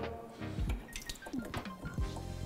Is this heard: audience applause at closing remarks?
no